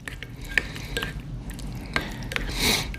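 Powdered hot sauce being stirred into an MRE of chicken, egg noodles and vegetables in sauce, with soft wet squishing and a few light scrapes and taps of a utensil in the pouch, up close.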